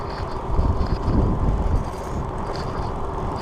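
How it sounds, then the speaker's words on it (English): Steady, heavy wind rush buffets the microphone while someone rides an e-bike into a headwind. A dense low roar holds throughout the short stretch and swells slightly near the start, with no voices. "So now going in the headwind and check out my speed."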